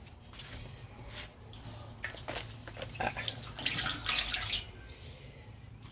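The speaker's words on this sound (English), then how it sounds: "So our water pan has gone dry, so let's put some more water in there." Water poured into the dry water pan of an offset smoker during a rib cook, a quiet splashing and trickling stream that builds over several seconds.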